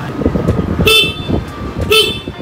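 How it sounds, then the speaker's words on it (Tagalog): Two short, loud horn beeps about a second apart sound over a low engine idle from a Yamaha PG-1 motorcycle. "Lakas naman yung busina."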